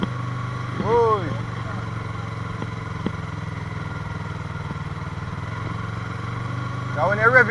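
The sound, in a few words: Yamaha R3 motorcycle engine revving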